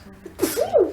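A single sneeze bursts out during a Spanish-language theology lecture, a sharp breathy snap followed by a rising, voiced exhale, close and fairly loud in an otherwise quiet room.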